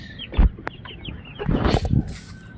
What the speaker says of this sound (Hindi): इसमें भी चूजे हैं, इसमें भी बड़े चूजे हैं।